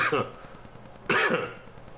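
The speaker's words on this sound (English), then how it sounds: "great time to cough during a vlog" Two sharp coughs, close and fairly loud, with a brief pause between them and no talking.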